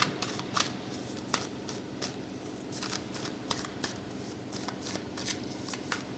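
Tarot cards being shuffled by hand during a love reading, a steady run of soft papery riffles and flicks with sharper snaps every second or so, close and fairly quiet, with no talk over it.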